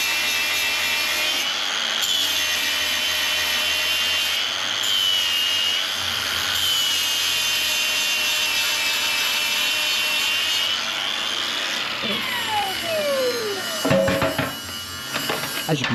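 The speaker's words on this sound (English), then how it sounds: "So grab the grinder." An angle grinder works on metal during MIG welding preparation, a loud sustained high whine with shifting pitch, a spin-down near the end followed by clattering.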